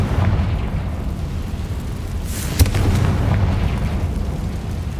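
A Confringo fire spell bursts in Hogwarts Legacy with one sharp crack midway, set over a steady loud rumble of battle noise with no talking.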